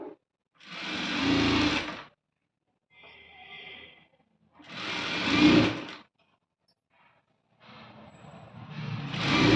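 Sewing machine stitching invisible thread piping onto fabric, running in three loud whirring bursts of a couple of seconds each, separated by silence and soft handling noises, close up.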